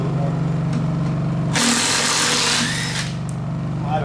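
Power tool tightening bolts on a cattle trailer, a steady whine that swells into a loud harsh burst of impact rattling for about a second, close by, with a voice speaking around it.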